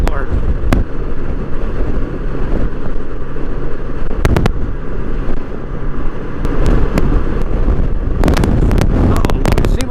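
Strong wind buffets the microphone while a Honda Goldwing trike rides along, a loud constant roar with sharp clicks here and there and no break.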